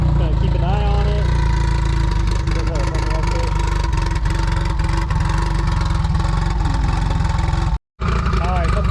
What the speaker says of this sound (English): I got the thing idling out here